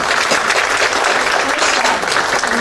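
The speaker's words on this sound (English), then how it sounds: "let's just give a round of applause to these folks." An audience at a healthcare recognition and panel event breaks into loud, dense applause that continues steadily throughout.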